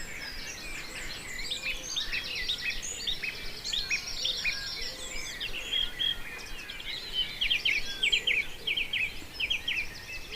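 A wren sings its first real song of the day, bright rapid trills and chirps repeating over a soft outdoor background, with other birds faintly calling in the distance.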